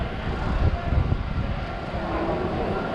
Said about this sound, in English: Here comes another train from the upper level.